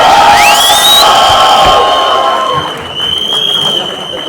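A crowd at an Indian film promotional event cheers and claps loudly, with high whoops and shouts rising over the applause before settling into sustained cheering with some whistling.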